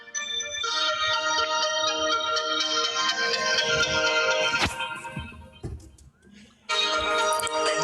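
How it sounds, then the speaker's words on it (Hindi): A phone's electronic ringtone melody plays loudly and repeatedly, breaks off briefly amid some clatter, then starts ringing again. "फोन खड़क गया, फोन खड़क गया"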